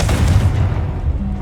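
A Confringo spell explosion in the video game Hogwarts Legacy, a loud, deep, rumbling boom that fills the whole short moment.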